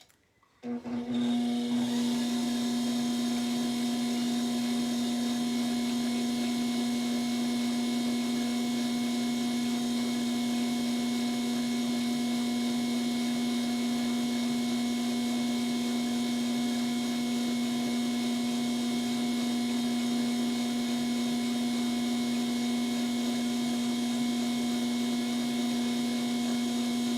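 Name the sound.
trimming pottery on a potter's wheel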